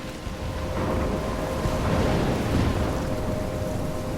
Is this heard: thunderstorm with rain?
yes